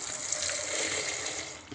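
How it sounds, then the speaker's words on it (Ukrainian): Half a litre of milk poured into a bowl, a steady, continuous liquid stream splashing evenly for a couple of seconds, close and fairly loud. "Спочатку додаю півлітра молока."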